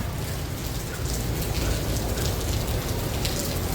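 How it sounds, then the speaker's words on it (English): Steady rain pours outdoors at an anime convention, a dense hiss of drops hitting the ground and nearby surfaces, close and constant, growing a bit heavier after the first second, with no voices. "I just walked a little bit in the rain"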